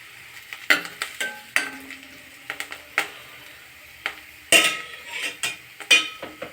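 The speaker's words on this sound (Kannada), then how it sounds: "ಈಗ ಕರಿಬೇವು ಹಾಕ್ತಾನೆ ವೀಕ್ಷಕರೇ" Curry leaves hit hot oil for a tempering and crackle, while a spoon clinks and scrapes against the pan in irregular, close stirring strokes over a soft sizzle.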